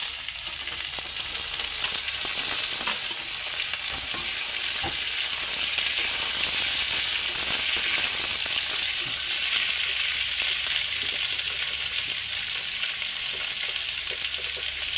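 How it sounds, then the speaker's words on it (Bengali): Pieces of taro and potato frying in hot oil, a continuous bright sizzle that holds steady throughout, with occasional light stirring taps in the pan and no talking. "কচু আর আলুটা ভেজে নেব।"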